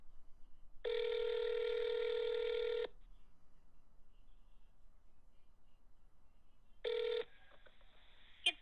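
Automated phone menu for a Ford Hyundai dealership: a single long steady keypad tone, then a second short tone a few seconds later, clear and close with near silence between.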